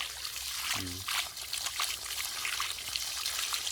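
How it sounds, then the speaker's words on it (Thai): Water flowing out of a solar-powered garden irrigation system after a long idle spell, a soft trickling stream with a brief low tonal burst near the start, fairly quiet and up close. "นี่ระบบน้ำผม ถ้าเปิดปุ๊บเดี๋ยวน้ำก็จะไหลออกมาแล้วนะครับนี่"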